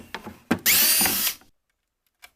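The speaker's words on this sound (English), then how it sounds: "Alright, we'll try a 1/2 drill bit." A power drill with a 1/2 inch bit bores a hole during a car wireless phone charger install. A short loud burst of high whining runs for under a second after a few clicks and handling knocks, then goes quiet.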